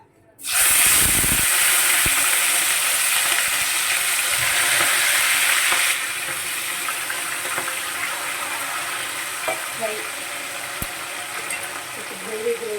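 Green chilli, tomato and curry leaves hit hot oil in a pan with a loud, sudden sizzle that settles into a steady crackling fry, with a few stirring knocks toward the end.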